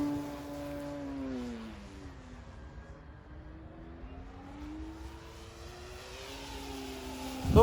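Hangar 9 J-3 Cub 10cc electric scale RC airplane flying, its motor and propeller whine rising and falling in pitch as it passes, steady and fairly loud throughout with no talk.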